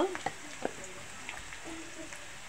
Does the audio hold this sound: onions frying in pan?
yes